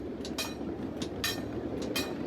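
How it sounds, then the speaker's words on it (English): Miniature live steam train ride at Wilson Park in Torrance, California: rhythmic clickety-clack of small wheels over rail joints, paired clicks repeating under a steady rolling rumble, fairly close and without talk. "The Southern California Live Steamers gave free train rides on Saturday at Wilson Park."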